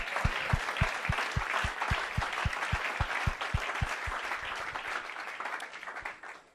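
A church congregation applauding together during a service, a sustained crowd of clapping with a strong steady rhythmic beat, fairly close and filling the room before gradually thinning out.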